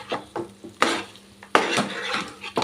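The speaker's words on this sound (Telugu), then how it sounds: "ఇప్పుడు ఇదంతా పీసెస్కి పట్టేలాగా ఇలా ఈవెన్గా కలుపుకుందాం" Spiced chicken pieces for a chicken fry being tossed and mixed in a metal pan, with a spoon scraping and clinking in uneven bursts and two sharper knocks, close and fairly loud.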